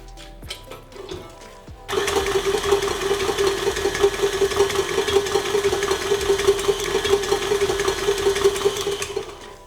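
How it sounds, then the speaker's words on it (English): An electric mixer creams room-temperature butter for Linzer cookie dough, starting after a few quiet clicks and then whirring steadily and loudly with a slightly uneven motor hum. "all we're gonna do is cream that together for about 2 to 3 minutes"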